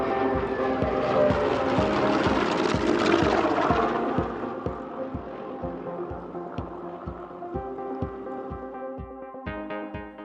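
Pratt & Whitney radial engine of a P-47D Thunderbolt fighter running loud and close, a deep pulsing propeller drone with a steady rhythmic throb that eases slightly midway.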